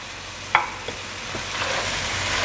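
Chicken karahi with ginger and green chilies cooking in a pan over low heat, a spoon scraping and stirring with a few sharp knocks over a soft, steady sizzle.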